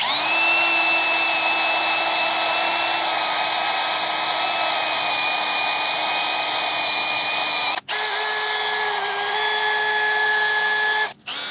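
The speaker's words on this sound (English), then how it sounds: "we're just going to take a wire wheel and a drill and slowly" A drill spins a wire wheel against grime on a cylinder head during assembly of a 6.2 LSA engine: one steady, loud high-pitched whine with a shrill scraping edge, pausing briefly twice near the end and then resuming.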